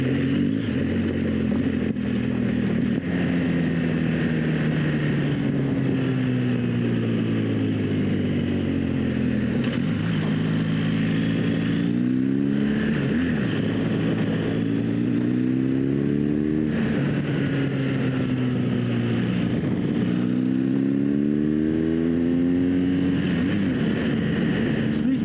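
An adventure motorcycle on Michelin Anakee tires runs along a twisting road, its engine note climbing and falling through repeated gear changes, steady and moderately loud under constant wind rush.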